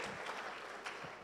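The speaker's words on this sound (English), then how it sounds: "Can we clap for them, please, for facilitating the process." Applause from an audience at a university research week gathering, a brief, even wash of many hands clapping at a distance, faint and steady.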